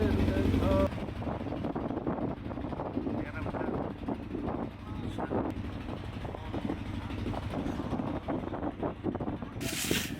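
A river boat carries passengers toward Chilmari, with a steady engine drone and wind rushing over the microphone as people talk.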